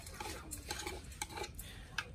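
Fried tofu pieces being shaken in a container while cooking lemongrass-chili tofu, giving repeated soft rattling, clattering bursts at close range with no talk.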